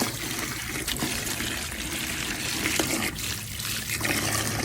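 Water pours steadily into a small pool, a continuous close trickling and splashing with slight surges, no voices heard.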